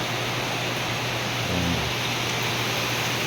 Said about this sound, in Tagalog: Kusog yung uwan.